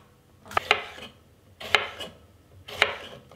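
A knife slices red, green and yellow bell peppers into strips, with three crisp, evenly spaced cutting strokes up close and quiet pauses between them.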